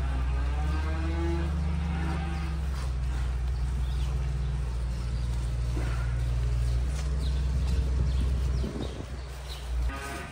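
Cattle lowing in long, deep, drawn-out moos close by, with a mechanical rattle and barn clatter running underneath.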